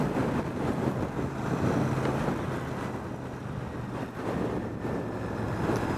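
A Royal Enfield Super Meteor 650 motorcycle runs at highway speed around 120 km/h, a steady engine drone buried in heavy wind rush, continuous and fairly loud with no break.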